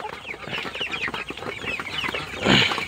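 Tiger chickens on a poultry farm cluck steadily in a busy, overlapping flock, growing louder near the end with a closer burst of squawking.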